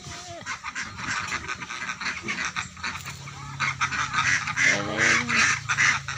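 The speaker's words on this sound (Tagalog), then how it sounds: "Katuwa naman itong mga itik nito." A flock of ducks in a rural yard letting out a busy overlapping chorus of quacks and honks that grows denser toward the end, with a voice faintly underneath.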